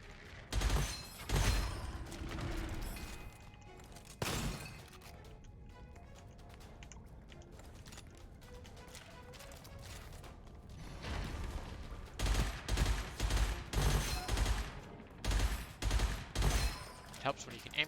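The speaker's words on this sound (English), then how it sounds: "Nice little burst fire weapon." Burst-fire weapon shooting in the video game Gunfire Reborn, loud clustered volleys early on and again in the final stretch, with quieter gameplay sounds in between.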